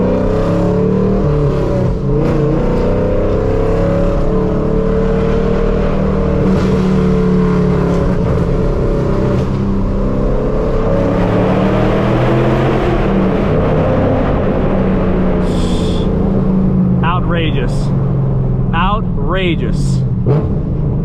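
A fifth-generation Camaro with a loud straight-piped exhaust roars steadily while driving, its deep engine drone rising and revving for the full length, with brief chirps and other sounds near the end.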